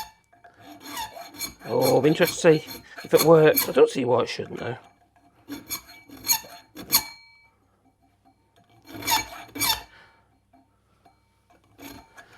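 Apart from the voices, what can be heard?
filing the teeth of a holesaw with a hand file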